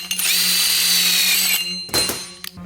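Power tool, likely an impact-style driver, spinning off the last wheel stud on an RX-7 axle: a loud, close high-pitched whine for about a second and a half, then a short burst and a couple of clicks.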